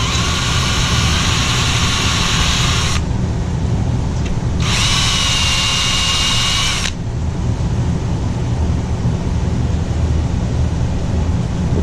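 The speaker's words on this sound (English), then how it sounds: "Barrel trimmer goes right through this one." A barrel trimmer cuts into a wooden pen blank with a loud, steady grinding whine that runs throughout, its bright edge dropping out briefly twice as the cutter bites and eases, with no talking.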